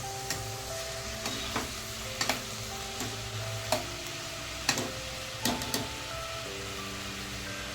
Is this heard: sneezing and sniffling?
no